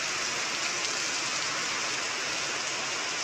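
Heavy rain pouring down in a village, a dense, constant wash of drops hitting surfaces close by, loud and unbroken with no voices.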